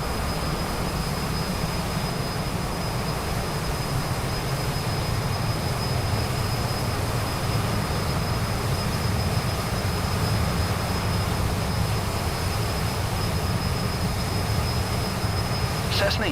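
A Cessna's engine drones steadily in flight high over Everest and the Khumbu Glacier, a constant moderate cabin hum with a thin steady whine, heard alone and unchanging.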